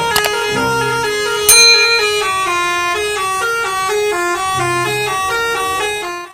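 A toy bus horn honks loudly and close, sounding a run of bright, melodic tooting notes in a quick sequence that carries on for several seconds, with no talking.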